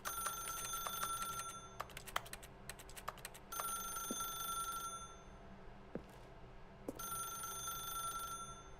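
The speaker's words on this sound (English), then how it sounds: "It keeps ringing and ringing." A telephone rings repeatedly in The Stanley Parable: Ultra Deluxe, bursts of bright electronic trilling separated by short pauses over a soft steady room hum, with occasional faint clicks and no voices.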